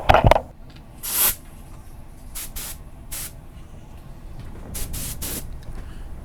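Several short bursts of HVLP spray gun hiss spraying paint, each lasting under a second with gaps between, loud and close, over a low background hum.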